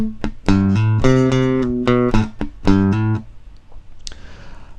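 Bass guitar plays the first bar of a lick: a string of clear, sustained notes with a few short ghost plucks and a hammer-on, close and dry, then letting go into near silence.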